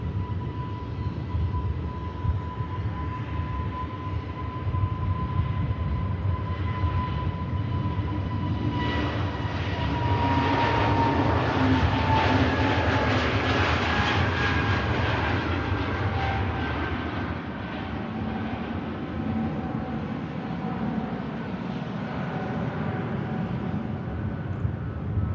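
A Lufthansa Airbus A319 pushing back at Manchester Airport, a steady jet engine roar and whine heard at a distance that swells in the middle and then eases, with no speech.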